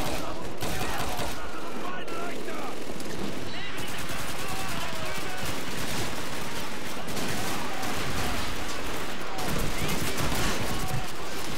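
Rapid Call of Duty 2 gunfire, dense bursts of shots crackling almost continuously with brief pauses, loud and close.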